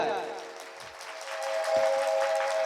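Listeners at a Ram Katha religious discourse break into applause, a steady wash of clapping beneath a sustained tonal drone, with voices in the background.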